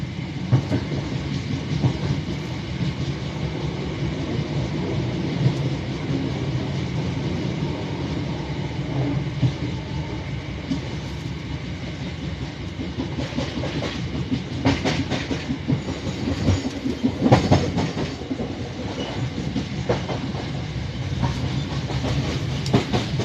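An old London Overground train rumbles along the tracks on the Greater Anglia line with steady rhythmic clickety-clack and a low continuous drone, heard from inside, moderately loud throughout.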